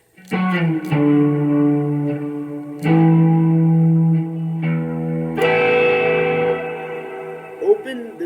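Electric guitar chords strummed with heavy effects, ringing and sustained with chorus-like shimmer, several struck chords letting notes hang, then an open low E and higher bell-like natural harmonics.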